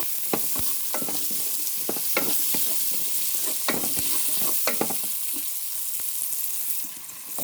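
Raw peanut soup with dry nettle leaves and rosemary being stirred in a pot, a steady close scraping and swishing with a soft bubbling sizzle underneath, repeated spoon strokes throughout.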